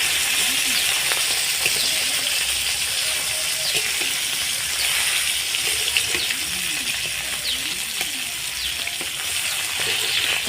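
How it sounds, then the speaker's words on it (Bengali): Small koi fish frying lightly in oil, a steady bubbling sizzle with scattered pops and occasional light clinks of a utensil against the pan. "কই মাছটা বেশি ভাজতে হবে না হালকা অল্প ভেজে নিতে হবে"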